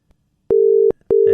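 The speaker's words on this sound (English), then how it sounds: "There it is. It's ringing." A telephone ringback tone on a call dialled live on air during a Tynwald Day radio special: two steady, loud tone bursts with a short gap between them, heard clearly on their own.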